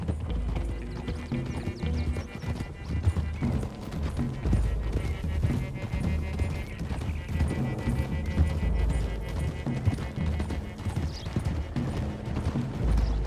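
Horse hooves clop steadily along a road in Red Dead Redemption 2 amid a dense, busy mix of game sound and music, with an occasional whinny.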